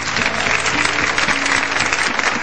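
A television studio audience applauds in a steady, dense wash of clapping that holds at full level for a couple of seconds with no voices over it.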